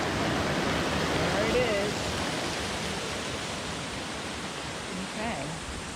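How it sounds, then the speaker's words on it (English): Rushing water at the base of a huge waterfall along a Pinkham Notch trail, a steady broadband roar filling the whole clip, with a brief spoken phrase heard over it. "That is the bottom of this humongous waterfall right here"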